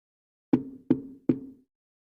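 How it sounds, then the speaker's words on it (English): Three firm knocks strike a door in quick, evenly spaced succession, each a close, resonant thud that decays briefly, with silence before and after. "Oh, someone's at the door."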